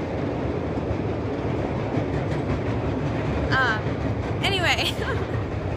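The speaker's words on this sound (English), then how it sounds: "this train goes by so often" A train rumbles past continuously nearby, its steady roar and faint squeals filling the background while a person keeps talking over it.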